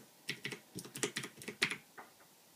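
Quick bursts of clicky keystrokes on a Ducky Shine 2 (DK9008) mechanical keyboard with Cherry MX Blue switches, close and fairly quiet, in an irregular typing rhythm with short pauses.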